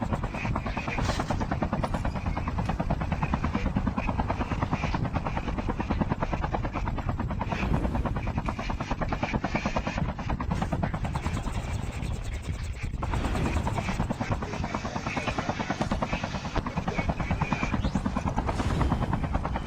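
A helicopter flies in the Call of Duty Mobile video game, a steady loud rotor chop that runs throughout, with faint gunfire and mechanical clatter mixed in.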